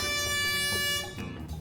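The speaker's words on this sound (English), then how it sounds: "I don't know what the air horn does as an item" An air horn item in the Mewgenics video game lets out a loud, sustained blaring honk for about a second before cutting off, leaving a brief burst of game noise behind it, with no talk.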